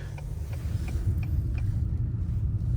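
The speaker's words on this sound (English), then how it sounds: "we'll wait for that bus to go by" A bus passes by outside a stationary 2023 Acura TLX A-Spec, a steady low engine rumble and road noise heard from inside the car with faint repeated ticks over it.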